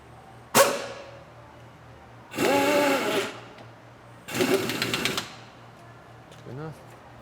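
An impact wrench tightens the bottom shock bolt on a vehicle during a suspension upgrade, with one sharp short hit followed by two longer whirring, buzzing bursts, close and loud, and a small squeak near the end.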